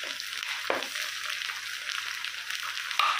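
Garlic paste and a small piece of ginger frying in a pan for coriander tomato chutney, a steady close sizzle with a brief stirring scrape partway through.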